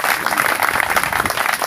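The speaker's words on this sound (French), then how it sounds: "Applaudissons pour le Seigneur." Applause from a church congregation at a revival pastors' conference, a short steady burst of dense clapping filling the room.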